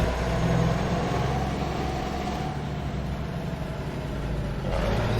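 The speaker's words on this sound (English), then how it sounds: "This engine is noisy." A simulated International 9300 truck engine idles in American Truck Simulator, a steady low diesel rumble with a faint hum above it that holds level throughout, with no talking.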